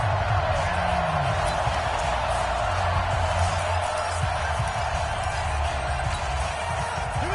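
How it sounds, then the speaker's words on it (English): In a PS4 football video game, the stadium crowd keeps up a steady, dense roar of noise and cheering, loud and unbroken from start to finish. "The crowd getting into it as we come up on a big third down."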